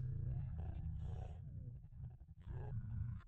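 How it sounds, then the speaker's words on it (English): A creature in the Fatal Frame horror video game growls in a low, rumbling roar that rises and falls in two long swells, steady and fairly close, with no talk over it. "Why is it growling at me?"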